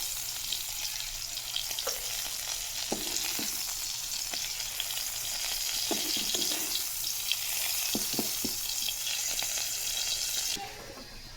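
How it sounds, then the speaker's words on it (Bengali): Cauliflower florets fry in hot oil, giving a continuous crackling sizzle with scattered pops and occasional stirring clatter, heard alone at moderate loudness. "ফুলকপি কটা ভেজে নেব।"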